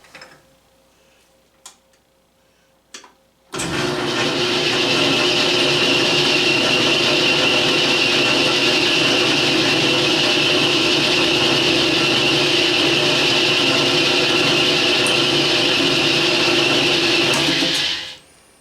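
An electric drill starts abruptly after a few faint clicks and whines steadily at high speed for about fourteen seconds before stopping.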